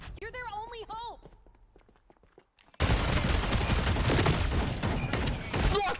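Dense, rapid gunfire erupting in a competitive team shooter video game, a loud sustained burst of shots that follows a stretch of excited talk, with a voice speaking over the start.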